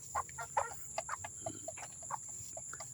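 Chickens on a small native backyard poultry farm cluck in short repeated bursts, several birds close by, with a steady high insect or equipment whine running underneath and no talking.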